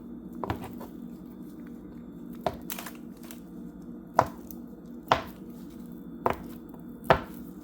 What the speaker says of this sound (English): Cut my butter into smaller pieces as possible